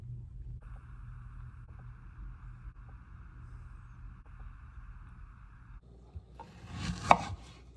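Onion being chopped on a board with a knife, a slow regular series of soft taps under a low steady hum, followed by a louder clatter near the end.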